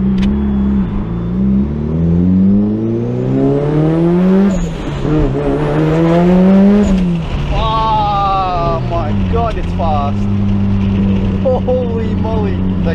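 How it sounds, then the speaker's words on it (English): A Mazda RX-7 FD rotary engine revs and climbs through gears while driving, pitch rising and dropping with each shift, loud and close, with voices talking over it. "it's time for me to drive the car"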